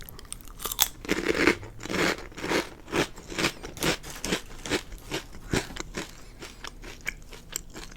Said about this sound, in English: These are just poppables from Lay's chips, just to get some, I guess, some crunching, eating sounds